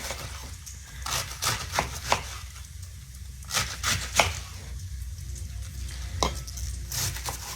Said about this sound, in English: we're just going to slice into it.